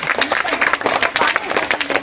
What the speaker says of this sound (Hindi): जोरदार ताली इस बच्चे के लिए।